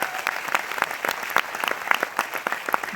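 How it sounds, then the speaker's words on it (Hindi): Loud applause from an audience for Mr. Santosh Yadav during a success-plan seminar, heard as a lively patter of distinct, fairly close claps that keeps an uneven rhythm throughout. "एक बार वंस अगेन जोरदार तालियां मिस्टर संतोष यादव के लिए"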